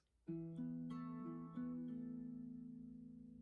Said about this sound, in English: So it would sound like this